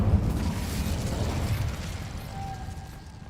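A Confringo spell explosion in Hogwarts Legacy bursts as a dense, low rumbling blast that holds for a couple of seconds and then fades, with no talk over it.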